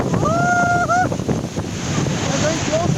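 Roaring water and heavy spray at Niagara Falls, taken from a tour boat right up close, a steady loud rush with wind buffeting the microphone and a whistling tone near the start.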